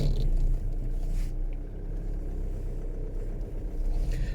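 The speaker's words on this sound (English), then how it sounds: "just driving out of the actual centre now" A vehicle pulls away from a driving test centre, its engine a steady, loud low rumble heard from inside the cab, with no speech over it.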